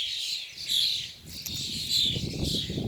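Several birds sing and chirp outdoors in bright, repeated bursts, fairly close and loud, with a soft rustling backdrop and no voices.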